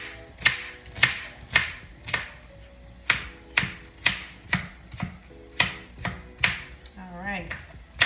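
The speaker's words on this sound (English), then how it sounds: "We're cutting these onions in record time." Knife chopping onions for veggie burritos and quesadillas, about a dozen crisp, evenly spaced strikes on a cutting board at a brisk steady rhythm, close and fairly quiet, with a brief voice near the end.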